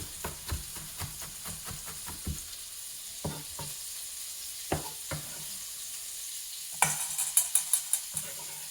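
Steady sizzling of meat frying in a pan, with repeated scraping and stirring clatter, a brighter burst of sizzle near the end.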